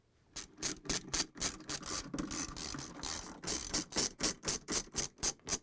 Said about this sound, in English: I'm putting on 7mm head, and I'm going to take out these screws